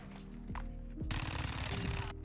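SMG gunfire in Modern Warfare 2, loud close bursts of rapid automatic shots forming one sustained volley, with no talk.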